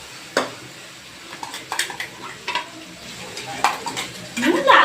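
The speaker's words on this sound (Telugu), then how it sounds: "అల్లం కూడా వేగిపోవాలి." Ginger frying in hot oil while a spoon stirs and knocks against the pan in scattered, uneven strokes, close and moderately loud over a soft sizzle, with a louder sizzling scrape at the end.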